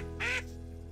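A cartoon mother duck gives a single short, bright quack, close and clear over a faint steady background hum.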